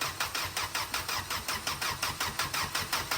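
A Tata gas-powered vehicle with a hard-starting, stalling fault cranks on its starter with a steady rhythmic whirring pulse, about a dozen even beats, loud and close, without catching.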